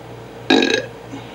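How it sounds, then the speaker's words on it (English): A single loud, throaty burp lasting about a third of a second, played back on a Concord 300 portable reel-to-reel tape recorder, standing alone over a faint steady tape hum. "I greatly enjoy the art form that is the burp"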